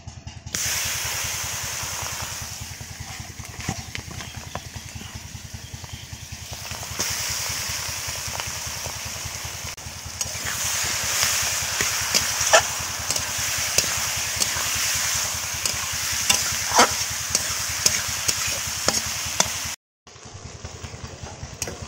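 Marinated chicken meat fries in a hot karahi for a village-style desi chicken curry, giving a long, loud, spraying sizzle with scattered crackles and pops before cutting off abruptly.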